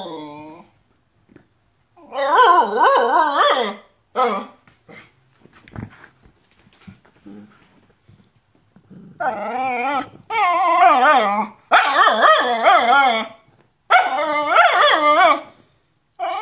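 A dog barks, whines and whimpers in several loud, close bursts with quiet gaps between them, while a person coaxes it in a low voice.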